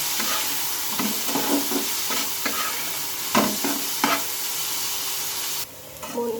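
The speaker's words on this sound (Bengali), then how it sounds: "পেঁয়াজটা দিয়ে আবার একটু ভালোভাবে করে নেড়ে ফেলে নেব" Onions and potatoes fry in a pan with a steady, close sizzle while a spoon stirs and scrapes through them in several short bursts, with no talking.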